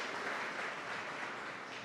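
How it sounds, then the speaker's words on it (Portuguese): A church congregation applauds a family walking up to the front, a soft, steady wash of clapping heard at a distance for a short stretch. "A igreja pode aplaudir essa família que está subindo aqui."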